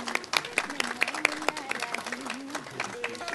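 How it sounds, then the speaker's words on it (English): A small audience at an Independence Day celebration applauds a distinguished guest with sparse, uneven claps in a quick irregular rhythm, moderately close, while a voice speaks over them. "So please give a applause."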